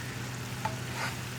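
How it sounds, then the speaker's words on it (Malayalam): Egg masala with ginger garlic paste simmering in a pan, a soft continuous bubbling sizzle with a low steady hum underneath and one or two faint stirring touches, close and even. "അപ്പോൾ നമ്മുടെ മസാല ഇപ്പോൾ ഒരു 3 മിനിറ്റ് ആയിട്ട് തിളച്ചുകൊണ്ടിരിക്കുന്നുണ്ട്"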